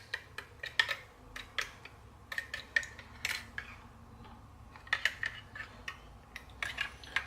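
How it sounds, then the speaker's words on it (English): A metal fork stirs a cleaning solution inside a bottle, giving sparse, irregular light clinks and taps against the glass at close range, quiet between strikes. "Just get the end of a fork and I'll mix that."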